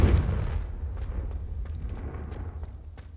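A Confringo blasting curse in Hogwarts Legacy lands as one loud booming explosion at the start, then fades into rumbling debris and crackles for several seconds.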